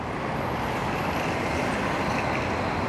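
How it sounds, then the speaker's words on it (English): Dense rush-hour city traffic drones continuously beside a large park in the middle of town, a broad steady roar of cars, trucks and buses with no voices. "there's a lot of traffic around here. I'm thinking that this might be rush hour traffic"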